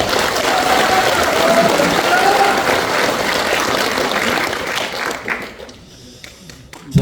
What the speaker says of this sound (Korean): 우리 애국자들께 여러분 박수 한번 보내주시기 바랍니다